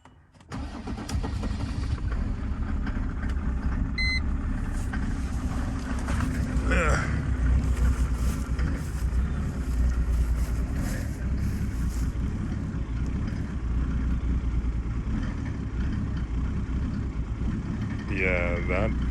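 A Mercedes OM606 diesel engine in a W210 cranks and catches, then runs roughly at a loud, close idle with an uneven clattering throb that carries on steadily throughout, with a few faint background noises.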